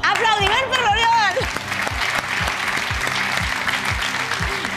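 Studio audience applause on a Catalan TV quiz show, steady clapping running under a whooping electronic stinger with pitch sweeps and rhythmic thumping music beats, the applause continuing after the effect fades.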